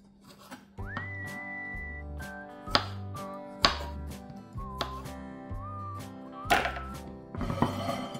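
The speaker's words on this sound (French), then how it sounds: "Les tomates, je vais couper en petits morceaux pour faire joli" A knife chops tomatoes into small pieces on a board, landing about seven distinct thunks at an uneven pace over a steady background tone and whistled melody.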